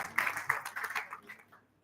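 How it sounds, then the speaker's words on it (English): An audience in a classroom-style talk claps for a student, a faint scattered round of applause that swells quickly and then tapers off. "A big round of applause for her."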